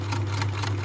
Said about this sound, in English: I'm just going to sew like along here over the top of that flap.